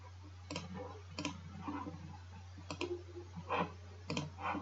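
Mouse clicks from right-clicking on a semi-line in geometry software during a math lesson: five sharp, close, evenly spaced clicks over a steady low electrical hum, with no talking.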